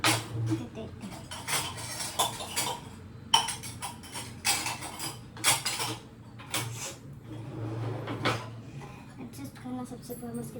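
Washed dishes, pots and cutlery clink and clatter in a steady run of bright knocks as they are lifted out and stacked aside in a home kitchen, close and fairly loud, with a low hum underneath.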